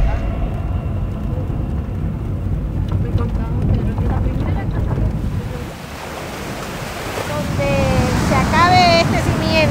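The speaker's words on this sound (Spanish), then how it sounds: "Este alto oleaje se produce debido a los frentes fríos que llegan de América del Norte hacia el Océano Atlántico." High ocean waves driven by cold fronts crashing on the Atlantic coast, a loud continuous roar of surf with wind buffeting the microphone, while a voice speaks over the later part.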